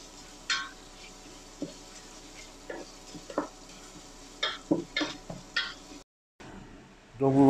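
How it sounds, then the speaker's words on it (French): A spoon gently stirs rice in a saucepan for sun-dried tomato risotto, giving soft, scattered scraping clicks at an irregular pace, with a louder clatter at the end. "Donc vous mélangez délicatement, ne laissez pas attacher le riz au fond évidemment."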